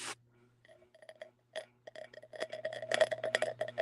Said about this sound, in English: It's a noisy ass candle. Y'all hear that?